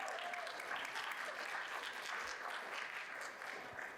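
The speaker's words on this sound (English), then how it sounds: "Let's give Richard a round of applause." An audience at a National African American Read-In Day event applauds for a man named Richard, with steady even clapping from a crowd and no voices standing out.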